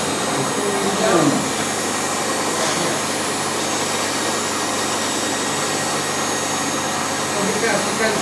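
A professional carpet steam cleaning machine runs with a loud, steady roaring whine, continuous and unchanging across the whole stretch, with faint voices underneath.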